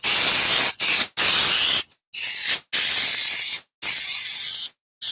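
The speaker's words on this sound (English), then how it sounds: "Keep spraying." Aerosol spray cans hiss in loud, steady bursts while the base of a TMX racing wheel is sprayed, with about six blasts separated by brief silent gaps, close up and with no voices.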